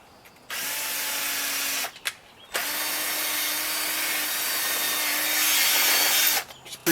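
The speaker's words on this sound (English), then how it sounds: "Just pre-drilling and make it easy for the screw to go in." A power drill bores a pilot hole for a screw in wood during a bed build-out in a 2017 Dodge Grand Caravan, running in two steady whirring bursts with a short pause between, close and loud.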